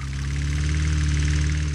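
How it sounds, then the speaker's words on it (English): A lawnmower engine runs steadily, a loud, close, even droning hum with a low throb and no change in speed over a short stretch. "the sound of a lawnmower can be as loud as 90 decibels."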